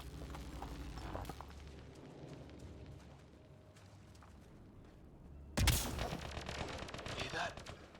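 Gunfire in the video game Mass Effect Andromeda during a firefight, with repeated shots and bursts crackling under a background score, one loud sharp blast midway, with voices speaking between the shots.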